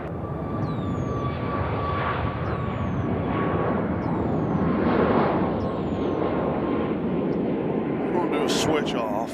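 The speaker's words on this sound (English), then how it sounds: "next departure, Southwest going to Baltimore" A Southwest airliner departing Nashville International Airport for Baltimore roars loudly and steadily nearby, a broad rumbling jet engine noise that swells slightly and holds throughout.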